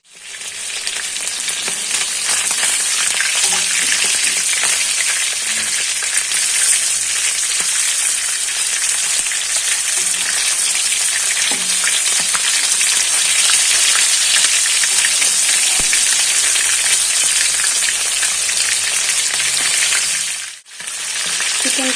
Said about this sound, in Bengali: কড়াইতে আমার চিকেন ভাজা হয়ে গেছে